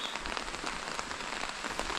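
Steady rain falls outdoors in hilly grassland, a dense even patter on surfaces with faint individual drops, continuous and fairly close, with no voices.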